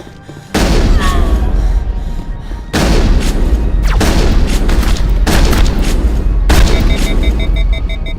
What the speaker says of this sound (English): Shotgun is so powerful.